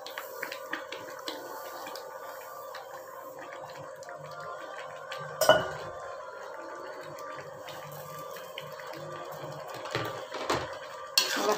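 A spoon scrapes and clinks against a pan as semolina kesari is stirred with sugar. The scrapes come in scattered, fairly quiet bursts with a few sharper knocks.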